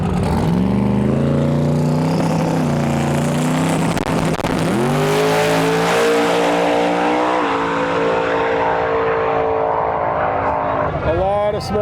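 A 1972 Plymouth Duster with a 2000-horsepower engine roars at a drag strip, a loud sustained engine howl that climbs in pitch as it accelerates, with a commentator talking over it throughout.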